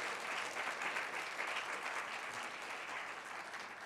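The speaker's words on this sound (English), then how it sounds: "if we can give our Congresswoman another round of applause" Sustained applause from a crowd at a city council district event, honouring a congresswoman, dense and steady throughout with no voices over it.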